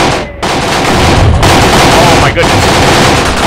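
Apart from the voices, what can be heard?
gunfire from troops in Graviteam Tactics video game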